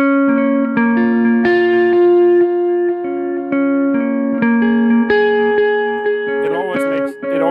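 An electric guitar runs through a TonePrint tape echo effect with drive added for tape-style saturation, playing sustained, ringing notes with repeating echoes, then a warbling, wavering tail near the end, loud and up front.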